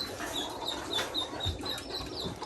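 Chickens clucking on a flooded farm where cattle, goats and ducks crowd together, a series of short, fairly faint clucks and calls repeating over a low, steady background.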